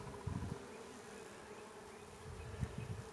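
Honey bees from a weak hive humming steadily in a box of comb, a faint continuous buzz with a few louder passes of individual bees close by.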